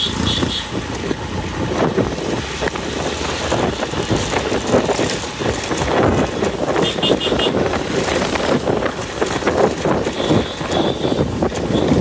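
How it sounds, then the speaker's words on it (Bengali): A vehicle descends a steep downhill road to Sajek Valley, its engine droning steadily and loudly under heavy engine braking, mixed with rumbling road noise and wind buffeting the microphone throughout. "break break, engine brake"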